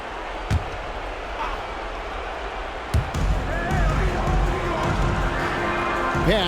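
Arena crowd in an NBA 2K26 basketball video game, a continuous roar of cheering broken by sharp ball bounces, with a commentator talking over it.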